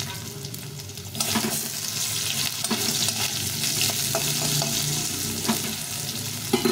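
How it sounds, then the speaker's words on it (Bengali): Potatoes fry in a pan with ginger in a home kitchen for a mixed-vegetable khichuri, giving a loud, steady sizzle, with bursts of stirring and scraping and no talking. "আলু একটু ভাজা ভাজা হয়ে যায়"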